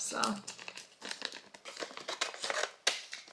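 Paper crinkles and rustles in bursts with a few crisp tearing or snipping sounds, close by, while a voice speaks briefly.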